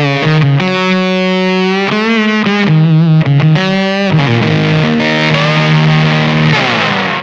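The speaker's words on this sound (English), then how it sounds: "10th anniversary Let It Lie special edition bonk machine for some fuzz" Electric guitar played through a 10th anniversary Let It Lie special edition Bonk Machine fuzz pedal, thick sustained distorted chords and bends ringing out loud and alone, saturated and buzzy throughout.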